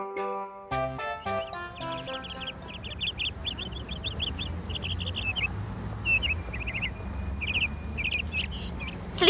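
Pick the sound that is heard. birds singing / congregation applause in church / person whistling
birds singing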